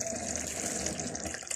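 Water or broth poured into a pot of black-eyed pea stew in a home kitchen, a steady close gushing pour lasting a second or two, with no talking over it.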